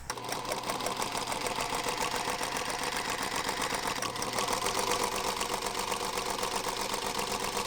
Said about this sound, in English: 2 lines of straight stitch here to gather up the top part of this front panel to attach to the top half of the front bodice